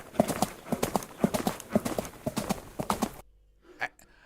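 A human voice imitates galloping horse hooves with rapid rhythmic clip-clop sounds, loud and close, ending abruptly and followed by a brief faint noise.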